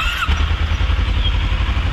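A motorcycle engine, once faulty with a cooling problem and a rat's nest inside, idles steadily and loudly up close with an even low rumble throughout.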